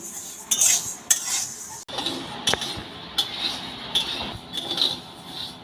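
Gobindobhog rice being dry-fried and stirred in a pan, with repeated clinking and scraping of a metal spoon against the pan, close and fairly loud in bursts.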